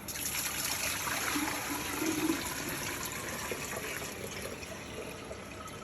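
Water pours steadily into a container for about six seconds, a continuous trickling splash at moderate level with no talk.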